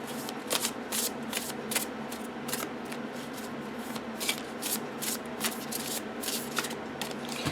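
Several crisp riffle shuffles of a stiff tarot card deck, each a quick fluttering burst, close up and repeated in quick succession.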